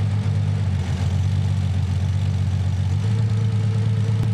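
A Nissan 300ZX Z32 engine idles with cylinder six disabled, a low, slightly uneven rumble, close and continuous with no voices.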